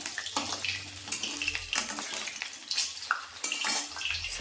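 Warm water runs into a bath for a small child in a home kitchen area, a steady broadband splash and gush with some clinking, heard close and fairly loud.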